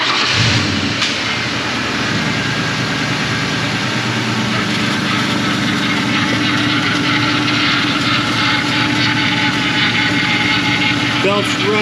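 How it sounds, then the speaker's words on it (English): A 2003 Ford Mustang GT with the 4.6 V8 runs steadily after an accessory overhaul, a loud continuous engine drone with a sharp start transient near the beginning, heard close up with some talking over it. "So beginning engine starting sequence now."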